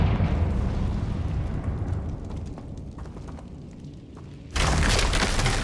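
A Confringo fire spell in the Hogwarts Legacy game sets off a rumbling burst, with low crackling and thumping debris, followed by a sudden loud bright blast near the end.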